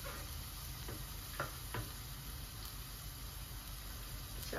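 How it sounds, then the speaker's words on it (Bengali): Greens and shrimp going into a hot pan give a faint, even sizzle with a few soft scrapes and taps from stirring, the frying hiss steady throughout with no one talking. "এখন আমি শাকটা বসাই দিই, এখানে চিংড়ি মাছ দিয়ে দিই।"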